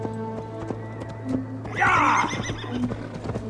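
Horse neighing in the video game Assassin's Creed Valhalla, set in a wild Gloucestershire forest: one loud whinny swells in the middle over a steady low background hum and soft hoof steps.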